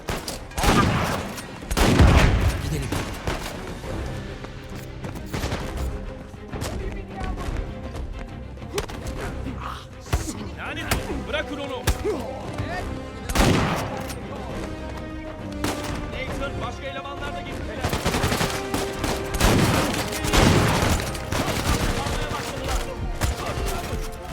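Shotgun gunfire in Uncharted 4: A Thief's End, loud booming blasts repeating irregularly among crashes and game chaos, with some talking mixed in.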